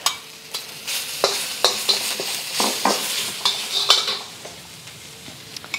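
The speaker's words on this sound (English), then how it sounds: "So I added about a tablespoon of oil, vegetable oil, and just adding the ginger and the garlic in here just to cook through." Ginger and garlic fry in about a tablespoon of vegetable oil in a pan for a Chinese noodle soup, a steady close sizzle broken by repeated sharp clinks and scrapes of a utensil stirring against the pan, with no talking.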